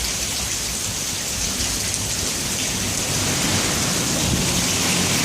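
Heavy rain falls steadily during the first thunderstorm of 2016, a loud, dense hiss that swells a little, with low thunder rumbling beneath it.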